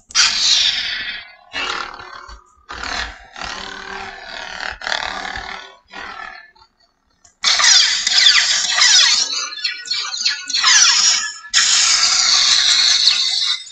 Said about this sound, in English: Very loud Saber.